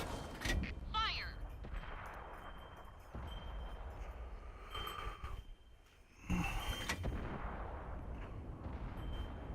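A tank cannon fires in World of Tanks, a loud booming blast with a sharp onset, followed by rumbling and mechanical clanks as the gun reloads, under faint game sounds.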